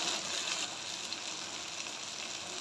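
Rice for biryani frying in a pan with meat gives a steady, close sizzle and hiss that holds evenly for a few seconds.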